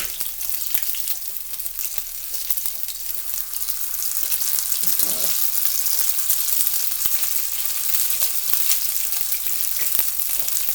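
Tater tots frying in hot oil give off a loud, steady sizzle with dense crackle throughout, close up and with no voices.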